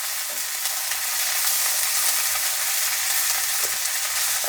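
Bottle gourd leaf mash frying lightly in a little oil, a continuous bright hiss of sizzling that stays even and close throughout.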